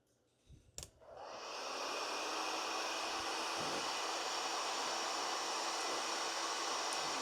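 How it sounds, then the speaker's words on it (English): A heat gun blows steadily, warming a stuck plastic clip on an oiler tube in the engine bay of a Mercedes 450SEL V8, with a few clicks as it starts, then a constant loud airy whoosh that holds to the end. "Just use the heat gun to just warm the clip up before you get underneath and"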